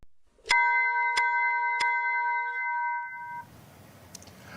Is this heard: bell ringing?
yes